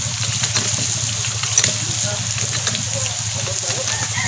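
Drinking water gushes steadily from a pump at a rural mountain spring source, a continuous rushing flow with a low hum beneath it, while a voice speaks over the sound.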